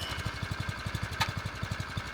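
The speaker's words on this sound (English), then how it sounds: "These Predator engines are unbelievable. That thing started the first pull." Predator engine on a Harbor Freight plate compactor just started and idling: a fast, even low thumping beat of firing pulses, close and steady, with one brief higher clatter midway.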